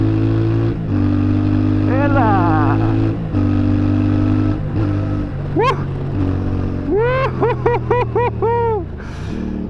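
A CFMOTO 450MT adventure motorcycle engine drones steadily while riding, with rising and falling rev sweeps and a burst of repeated throttle blips near the end; a man exclaims briefly.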